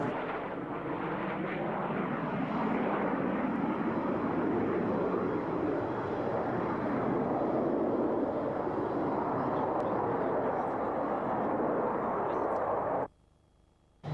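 A B-2 Stealth Bomber takes off at RAF Mildenhall's air fete, its jet engines giving a loud, sustained broadband roar that holds steady for over twelve seconds before cutting off abruptly.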